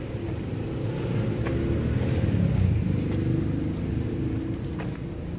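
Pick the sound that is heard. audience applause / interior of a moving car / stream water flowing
interior of a moving car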